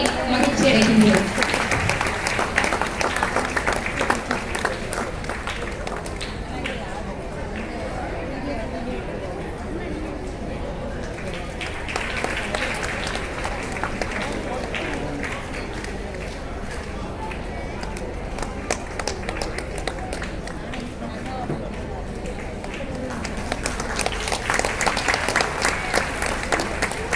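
Audience applause honouring an artist at a Carnatic music and Bharatanatyam event, with dense steady clapping from a large crowd filling the room throughout, mixed with faint chatter.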